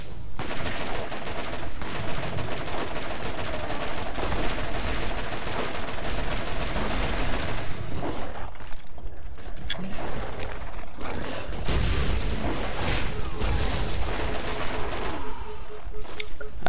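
Dense gunfire in the co-op shooter game Borderlands rattles almost continuously, rapid bursts and explosive crashes layered thickly, with a brief lull midway before the shooting resumes loud and close.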